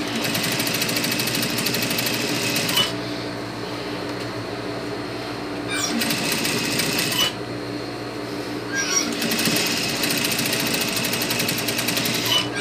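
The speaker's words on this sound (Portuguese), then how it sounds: "E a máquina vai costurando o viés no lugar." A sewing machine stitches bias binding onto a child's blouse, running in steady fast bursts of close mechanical whirring separated by short pauses, with no voice over it.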